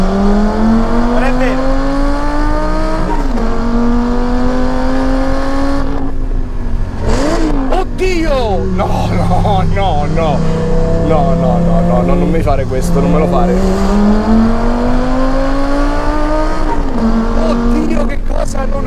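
A Lamborghini Superleggera engine downshifts and revs loudly and close, rising and falling in pitch with crackling blips between gears, while an excited voice talks over it.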